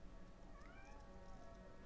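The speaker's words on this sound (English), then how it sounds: "This cat is just flipping out." An agitated house cat yowls faintly in a drawn-out, rising meow over steady background noise indoors.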